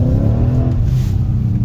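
Deep, throaty rumble of a Mercedes CLK V8, held at steady revs and close by, with a low harmonic drone and no voices over it.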